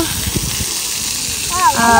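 Water gushes with a steady broadband hiss from the fountains of an outdoor spray park, running continuously with children's voices and chatter over the top, the voices getting louder toward the end.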